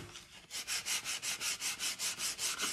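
Gentle hand sanding on painted wood during final-coat finishing, about a dozen steady, even back-and-forth strokes, close and clear with no talking.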